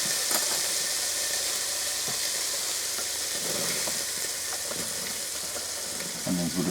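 Onions frying with spices in a hot pan, a dense continuous sizzle close by with occasional stirring scrapes, no talking.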